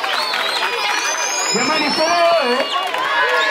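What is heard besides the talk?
crowd clapping for the teachers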